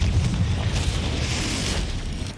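Confringo explosion spell cast in the game Hogwarts Legacy, one loud, rumbling boom that rolls on with a deep roar and fades slowly.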